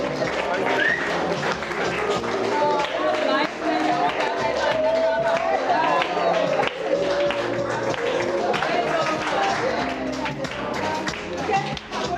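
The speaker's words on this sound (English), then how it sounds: "Ladies and gentlemen, keep the round of applause going." Applause and crowd noise from guests at Ijeoma and Ben's wedding celebration, dense and continuous over loud music with voices on top.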